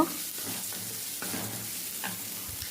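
Okra being sautéed in a pan for a Manavai-style okra pachadi, with a steady close sizzle and intermittent scraping stirs of a spoon across the pan, no talking.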